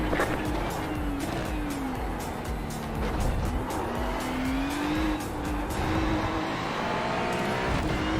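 Race cars in the iRacing sim game roar continuously up close, engine pitch rising and falling through gear changes, with tyre squeal and rapid clicking ticks, and a voice speaking faintly beneath.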